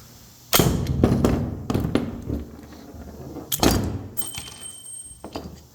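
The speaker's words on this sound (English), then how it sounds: "That was the sound of the guide rod hitting the ground." The metal guide rod of a SIG P320 X5 Legion pistol drops and clatters on the ground, with several sharp close impacts and bounces followed by a faint ringing tone.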